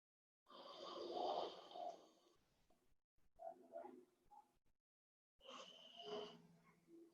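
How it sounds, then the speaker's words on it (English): A person lying on a foam roller during upper-body yoga lets out big open-mouth yawns, a long breathy one near the start followed by two shorter, softer yawning exhalations separated by silent pauses, close and alone. "big open mouth yawns."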